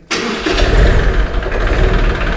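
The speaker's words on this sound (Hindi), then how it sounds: "एक बार जी इस ट्रैक्टर को स्टार्ट करके दिखा दो प्रीत" A tractor engine cranks and catches, then settles into a steady, low rumbling idle close by.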